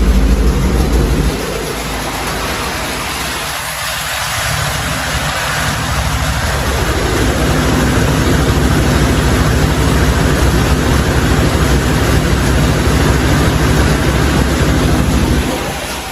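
A Rolls-Royce Silver Spur engine, long unstarted and running slightly rich on one side, holds a steady, loud idle with a deep low rumble throughout, fading out only at the very end.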